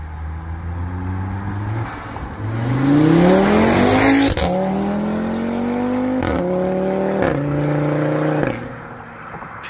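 An Audi RS3 tuned by ABT revs hard and accelerates, the engine note climbing through several quick gear changes with crisp upshift breaks, loud and close, with no talking over it.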